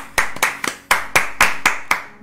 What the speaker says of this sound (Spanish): yo quiero recibir con un fuerte aplauso a un invitado especial que tenemos acá